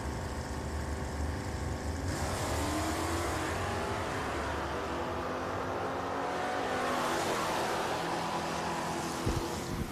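Drag race cars, a Chevy Camaro and a Plymouth Cuda, launch and roar away at Richmond Dragway, engines loud and sustained with a rising surge of acceleration for several seconds.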